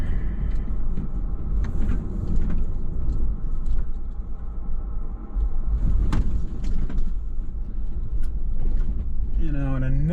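A Toyota full-time 4WD vehicle drives slowly along a muddy, trash-strewn back-country trail called Back of Beyond, its engine rumbling steadily with occasional bumps and knocks, and someone speaks over it throughout.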